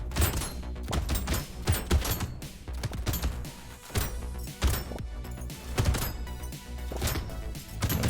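Repeated shotgun blasts from a wave-based endless survival video game fire in rapid, steady succession over busy game music and effects, loud and close with no talking.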